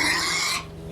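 A pig gives one short, loud grunting oink up close, ending abruptly after a moment.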